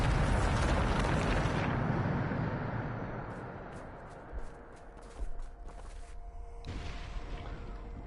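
A Bombarda explosion spell from a Harry Potter video game, a loud roaring blast that decays into rumble, followed by scattered debris clatter and a second thud.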